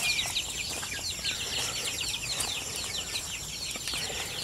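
Chickens in a backyard flock cluck and chirp continuously, with bird calls and occasional wing flaps layered over steady outdoor background noise, moderately close and fairly even in level throughout.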